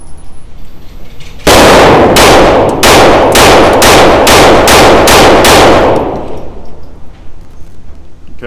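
A Taurus TX22 Competition pistol firing Federal 28 grain rounds: a rapid string of about eight sharp, very loud close shots at a quick, even rhythm, each with a short ringing decay, then quiet.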